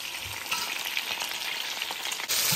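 Fish fries in a frying pan with a steady, bright, dense sizzle and crackle that holds throughout at close range, with no voices.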